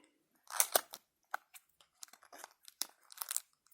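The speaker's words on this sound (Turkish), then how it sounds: "Evet şimdi kutumuzu açıyoruz." Crinkly packaging is torn and rustled open on a toy box surprise egg package, giving a string of sharp close tearing and crunching bursts with short gaps, no talk.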